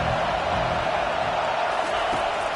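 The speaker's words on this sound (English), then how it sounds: "Decibels rising as the crowd gets behind this defense on third down." Stadium crowd noise at a college football game between Ole Miss and Tennessee, a steady broad roar filling the whole clip as fans rally behind the defense on third down, with a commentator's voice over it.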